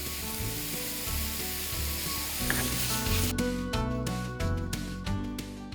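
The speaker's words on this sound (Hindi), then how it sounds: "अब इस सारे मसाले को हल्का सा पकाना है" A spice mixture for Gujarati fafda's sambharo sizzles and fries in a hot pan, with a steady crackle and occasional scraping stirs, close and fairly loud.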